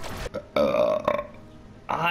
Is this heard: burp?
yes